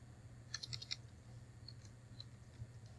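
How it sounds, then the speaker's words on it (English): A few soft, faint keystrokes tapped on a computer keyboard while filling in a name on a form, a brief cluster of clicks followed by scattered single taps over a low hum. "You would type your name,"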